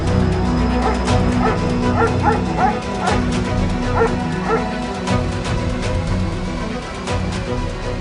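Several street dogs bark outdoors in a city, repeated yips and barks over a steady background din, fairly loud and overlapping throughout.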